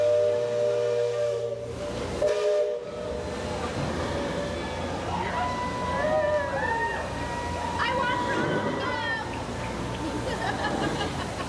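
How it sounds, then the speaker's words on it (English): The Liberty Belle Steamboat's deep steam whistle sounds in long sustained blasts across Liberty Square at Disney World over a busy crowd of voices, with the hiss of steam and a wide outdoor echo. "The whistle let out a deep breath of steam, echoing through Liberty Square"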